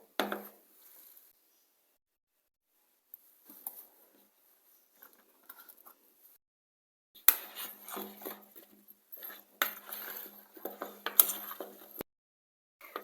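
Potatoes are stirred with oil in a quiet kitchen: faint isolated clinks early on, then a cluster of scraping, rattling stirs in the latter half.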